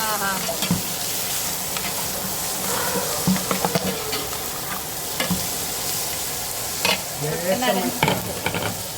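Carrot pieces sizzle loudly in Kuttanad-style pickle masala while being stirred, with a steady frying hiss and scraping spoon strokes throughout.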